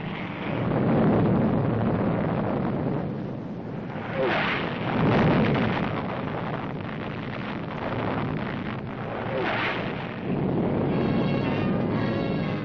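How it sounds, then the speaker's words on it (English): Nuclear test blast hitting typical homes in a 1955 newsreel, heard as a sustained loud rumbling roar with swelling bursts of wind-like blast noise, muffled and band-limited like old film sound. "Less than a mile from blast center, cameras record impact on typical homes."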